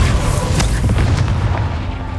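A Confringo blast spell goes off in Hogwarts Legacy, a dense booming burst that stays loud and rumbling across the whole short stretch, with no voices over it.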